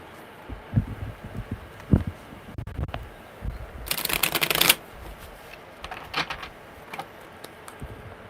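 A deck of tarot cards is shuffled close up, soft riffling and tapping with a brief louder flutter of cards in the middle, quiet otherwise.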